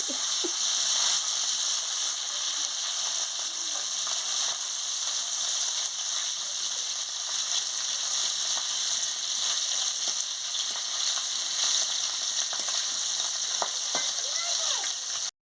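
Singi fish frying in hot oil in a kadai, a loud, steady sizzle with intermittent spatters and the scrape of stirring throughout.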